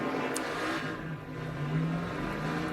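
NASCAR Nationwide race car on the road course at Montreal, a steady mid-pitched engine hum carrying across the whole moment, fairly faint and distant with a slight rise in revs, no talk.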